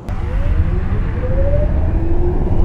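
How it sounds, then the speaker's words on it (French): A Tesla Roadster electric sports car driving with a turbine-like whistling whine that rises steadily in pitch over a low rolling road rumble, close and fairly loud. "Donc au lieu d'être complètement silencieux, on a ce petit son de turbine qui est plutôt pas mal."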